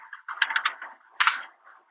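Two quick clusters of clicky keystrokes on a computer keyboard enter a short command. The taps are close and crisp, with a short gap between the bursts and no speech.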